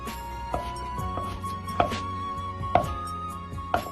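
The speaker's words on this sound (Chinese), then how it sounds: "最后切成肉丁" Knife chopping meat into small dice on a cutting board, a few sharp, well-spaced blade strikes with a steady faint background hum.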